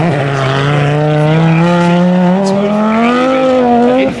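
An Audi S1 Sport Quattro Group B rally car engine howling loud and close, a steady high-revving note that climbs slowly in pitch as the car accelerates, with no talk over it.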